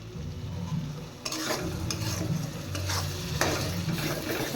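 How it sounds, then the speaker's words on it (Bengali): Spice masala for a crab curry sautéed over high heat, with brisk spatula scrapes against the pan over a constant loud sizzle, the strokes coming in irregular close bursts. "এবার মশলাটা ভালো করে কষিয়ে নেব এবার আঁচটা বাড়িয়ে দেব"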